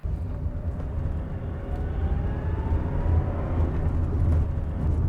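A Porsche 911 SC drives along, its engine giving a steady low rumble with a gently rising tone as it pulls, heard from inside the car over road and wind noise, with no talking.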